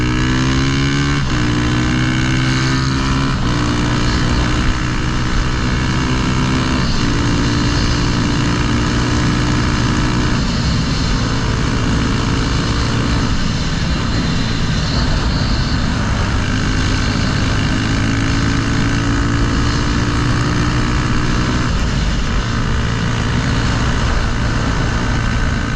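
Honda Grom mini bike fitted with a CBR300R engine revving loud and close, throttle blips rising and falling repeatedly over a steady buzzing idle, no talk.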